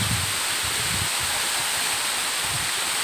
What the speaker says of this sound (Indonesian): Ini air terjunnya indah sekali.